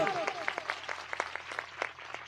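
A church congregation claps together in a quick, even rhythm, a steady run of sharp hand claps at moderate distance with a voice mixed in.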